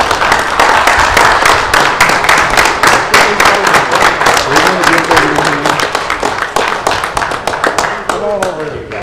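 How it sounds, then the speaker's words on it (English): Applause from a crowd at a county fiscal court meeting, a dense steady clapping lasting several seconds and slowly thinning out, with a few voices talking underneath. "I think it would be appropriate to give him a round of applause."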